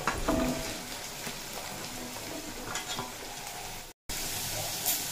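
Pumpkin and yardlong beans sautéing in a pan with salt and turmeric: a steady sizzle with spatula stirring, a brief dropout near the end, then the sizzle resumes.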